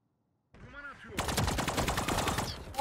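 Rapid automatic gunfire from the video game Valorant, a dense burst of close, loud shots filling the second half after a brief voiced sound, with no clear talk over it.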